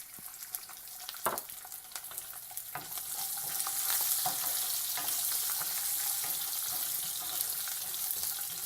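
Garlic and curry leaves sauté in hot oil with a bright, steady sizzle that swells after a few seconds, punctuated by sharp scraping taps of a spoon stirring the pan nearby.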